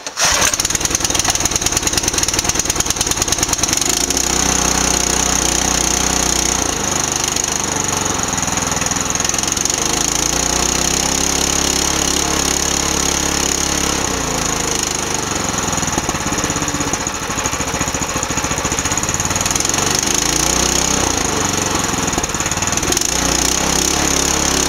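A small model combustion engine on a radio-controlled servo setup runs steadily and loudly up close for the whole stretch, its buzzing drone rising and falling in pitch as the throttle shifts, with no talking over it.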